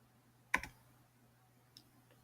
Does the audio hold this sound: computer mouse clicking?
yes